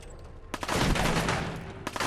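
Rifle gunfire in the video game Fallout 4, a loud burst with a roaring tail and a few sharp cracks at the start and end, all packed into about two seconds.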